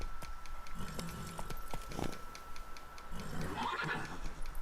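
Roach, Geralt's horse in The Witcher 3, neighs clearly while hooves clip-clop in a steady trotting rhythm, close and distinct with no talk over it.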